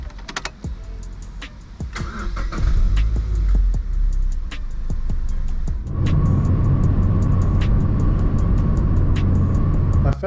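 Mazda MX-5 Miata NC being driven, its engine humming steadily from inside the cabin with a deeper rumble building midway, alongside scattered clicks and knocks from the interior.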